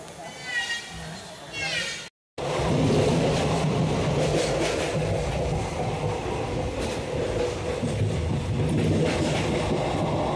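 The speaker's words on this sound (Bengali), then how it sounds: "আমাদের ট্রেন 400 কিলোমিটার পথ অতিক্রম করে এখন এসে পৌঁছালো আহমেদপুর জংশন স্টেশনে" The Kanchenjunga Express pulls into Ahmedpur Junction station with a loud, steady rumble of wheels and carriages after a brief silence. A voice is heard near the start.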